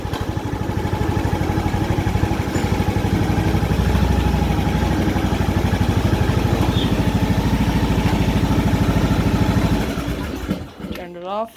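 A John Deere LA125 riding mower with a 42-inch deck drones loudly and steadily close by while driving, then the engine cuts off near the end with a brief sputter.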